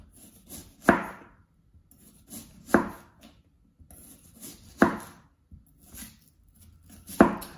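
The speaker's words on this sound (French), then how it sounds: "je vais déjà couper un oignon en utilisant mon nouveau super couteau" An onion is chopped with a new sharp knife, four crisp separate strikes on a cutting board spaced about two seconds apart, with soft slicing between them and no voices.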